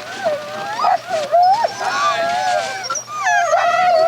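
A sled dog at the North Pole whines loudly and close, in long rising and falling cries that run almost without a break.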